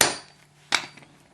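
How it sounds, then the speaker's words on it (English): A hammer taps a steel split back stud out onto a concrete surface, striking twice with sharp metallic knocks about half a second apart, close and fairly loud, each hit ringing briefly before dying away. "tap it out with the hammer onto the concrete"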